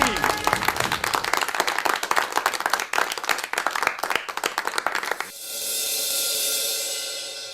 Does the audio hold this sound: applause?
yes